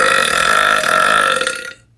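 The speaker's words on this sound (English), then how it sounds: "I'm gonna try to show you how like I do the burp" A girl lets out one long, loud burp after sucking in air, held for nearly two seconds before it tapers off into silence.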